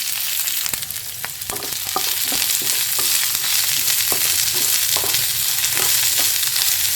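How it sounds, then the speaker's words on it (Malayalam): Chopped ginger, garlic, shallots and green chilies fry in a pan for chammanthi, a loud, continuous hissing sizzle punctuated by frequent sharp spatula clicks as they are stirred, with no speech. "ഇനി ഇതിലേക്ക് നമ്മൾ അരിഞ്ഞു വെച്ചിട്ടുള്ള ഇഞ്ചി, വെളുത്തുള്ളി, ചെറിയ ഉള്ളി, പച്ചമുളകൊക്കെ ഇട്ട് നന്നായി വഴറ്റി വെക്കുക."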